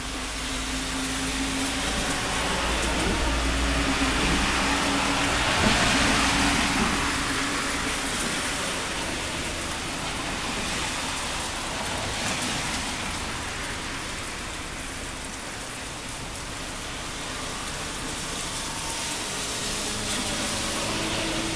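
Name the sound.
rain falling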